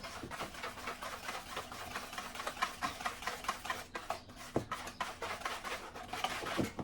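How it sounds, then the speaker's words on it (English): A whisk mixes dry mandazi ingredients in a bowl with quick, rhythmic scratchy strokes, steady and fairly faint, running throughout without any voice. "using a whisker, I'm going to mix in the dry ingredients so that they can be evenly distributed"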